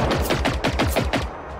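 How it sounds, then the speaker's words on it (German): Rapid automatic gunfire in the video game Generation Zero, a loud, sustained string of closely spaced shots firing in a steady rhythm for nearly two seconds, with no talking over it. "Ich weiß, ich schieße ja schon"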